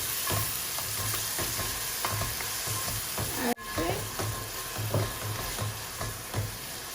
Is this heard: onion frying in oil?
yes